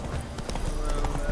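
Hooves of the horse Roach clip-clop in a quick, even gallop rhythm in The Witcher 3, close and steady over a low rumble.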